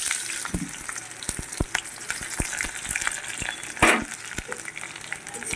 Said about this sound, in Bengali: কড়াইয়ে তেল বসিয়ে দিয়েছি এবার দিয়ে দেব কিছু রসুন দিয়ে দেব কিছু পেঁয়াজ আর লঙ্কা